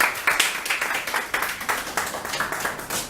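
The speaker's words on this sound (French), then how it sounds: "Allez-y, applaudissez quand même." A small audience claps at a book presentation, a close, rhythmic patter of individual hand claps with distinct repeated strikes, fairly loud and steady, with no talking over it.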